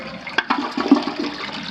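A residential toilet in a primary bathroom suite flushes, a broadband watery rush with gurgling swells and a few louder surges, close and steady with no talking.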